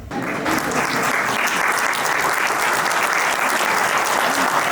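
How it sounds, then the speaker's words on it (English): Steady, dense applause from a large audience at a Victory of Adwa celebration, loud and continuous throughout with no pauses, as a speaker is called to the stage. "Please give him a round of applause."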